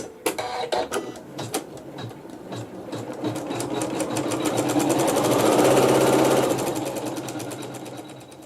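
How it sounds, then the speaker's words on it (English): An embroidery machine stitches small flowers, with sharp mechanical clicks and thumps early on, then a sustained rhythmic stitching hum that swells in the middle and eases off, close and loud. "we're going to stitch the beginning of some cute little flowers"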